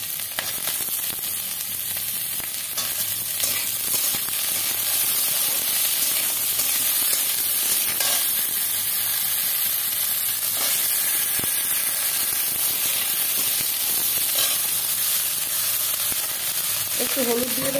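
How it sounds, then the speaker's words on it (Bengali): Eggplant and onion frying in hot oil in a home kitchen pan, a steady close sizzle and hiss running throughout with faint stirring scrapes. "এবার আমি বেগুনগুলো দিয়ে দেবো"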